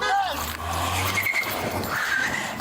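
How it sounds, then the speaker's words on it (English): A car takes off abruptly with tires squealing and engine revving, loud and close, while people shout over it. "He's taking off with Derek in the car"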